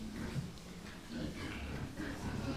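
Low, steady grunting from sows and piglets in a pig farm pen, fairly faint and continuous, with a hint of voice in the background.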